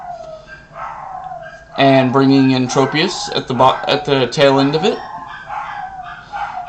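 Excited dogs bark and howl in a loud, sustained cluster that rises over someone speaking, then trails off as his talk continues.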